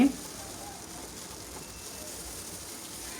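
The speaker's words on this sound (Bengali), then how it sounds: "এই তো ঢাকনা খুলে আবার নাড়াচাড়া করে ভেজে নিচ্ছি" Okra frying in a pan while being stirred and spread out gives a faint, steady sizzle, with a brief louder knock at the very start.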